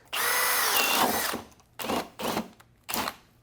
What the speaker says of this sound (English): We're going to use the Milwaukee self-feeding bit as well.